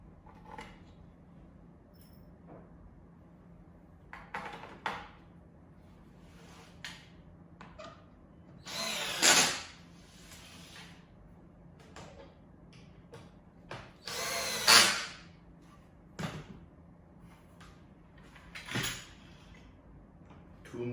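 A power drill drives screws into a wooden car bed platform during assembly, several short whirring bursts, two of them longer and louder, separated by quiet gaps and light handling clicks.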